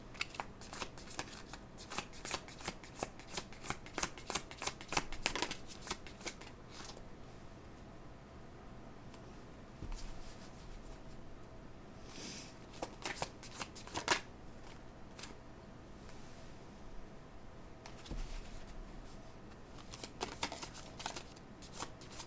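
Tarot cards are shuffled in repeated bursts of crisp riffling and flicking, close and fairly quiet, with short pauses between rounds and no talk.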